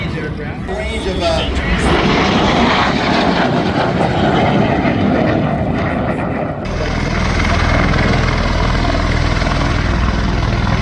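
An A-10 Warthog military jet flies at an air show in Santa Maria, California, a loud, continuous roaring engine rush that swells and shifts in pitch as it passes, with an announcer talking over it.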